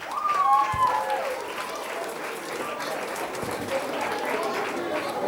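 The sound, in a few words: audience applause at a carnival show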